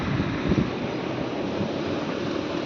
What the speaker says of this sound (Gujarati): વરસાદ ચાલુ થઈ ગયો છે થોડો ફાસ્ટ ચાલુ છે